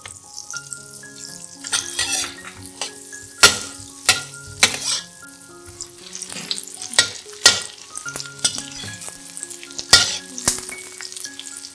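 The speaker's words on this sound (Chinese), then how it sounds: "放入香茅、 八角、姜和黄姜炒香" Lemongrass, star anise, ginger and turmeric sizzle in melted butter in a pan, with a spatula scraping and clattering at irregular intervals under soft background music.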